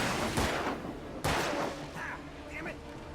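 Gunshots in the Alan Wake video game: two sharp reports, one near 0.4 s and a louder one near 1.2 s, each with a quick decay, against a busy background with a voice talking over it.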